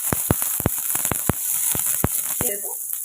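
Half a spoon of whole cumin, then onion, sizzling in hot refined oil in a pan, with sharp crackling pops scattered over a steady frying hiss and a softer sizzle near the end.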